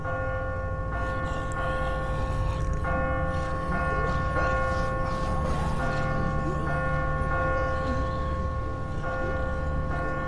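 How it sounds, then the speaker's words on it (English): A bell tower bell in The Walking Dead video game rings loud and close, its long sustained metallic tone droning over steady background noise with a few voices faintly underneath. "Look at the bell. Two solid rings of this, and there'll be thousands down below."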